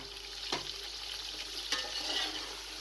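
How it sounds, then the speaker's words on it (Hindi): Potatoes, tomatoes and chillies frying for aloo matar pulao, a soft steady sizzle with two distinct scrapes of stirring, no one speaking. "तमाम चीज़ें डालकर तकरीबन 2 से 3 मिनट तक अच्छी तरीके से भून लें।"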